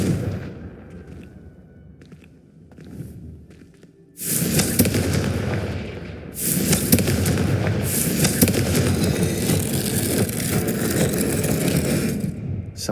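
Confringo fire spell blasts in the Hogwarts Legacy video game, a sustained roaring crackle of fiery bursts that swells suddenly and stays loud and dense, after a quieter rumbling lead-in.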